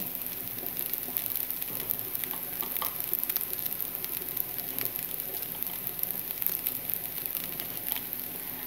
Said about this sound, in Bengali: ঘিয়ের মধ্যে ভাজবো এরপর আমার চালটা ভাজা শেষ